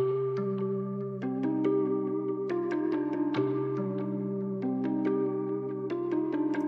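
A bright synth melody with plucky notes trailing into echoing repeats and a soft reverb wash over a steady low drone.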